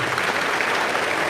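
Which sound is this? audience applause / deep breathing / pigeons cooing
audience applause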